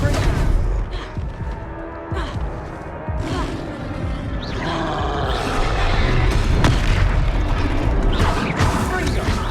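An explosive spell in Hogwarts Legacy bursts with heavy booms and crashing impacts amid a chaotic battle, loud and close, with repeated hits and debris clatter over game sound.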